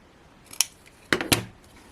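Scissors snip through card during cardmaking, three sharp, close cuts: one single snip, then a quick pair a moment later, in a quiet room.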